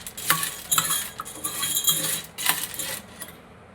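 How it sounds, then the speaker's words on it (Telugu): A spoon stirs chickpeas with a spoonful of oil in a metal bowl, producing a close series of rattling clinks and scrapes as the hard chickpeas tumble against the metal, irregular and fairly loud before fading at the end. "వన్ స్పూన్ ఆయిల్ వేసుకొని శనగల్ని పట్టేలాగా మొత్తం మిక్స్ చేసుకోవాలి."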